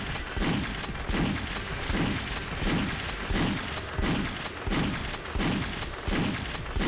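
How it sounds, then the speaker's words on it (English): Gunshots repeat in a steady, evenly spaced rhythm of roughly one per second in the Alien Trilogy shooter game, each a loud booming report with a brief tail, continuing alone without talk. "Oh god, pistol."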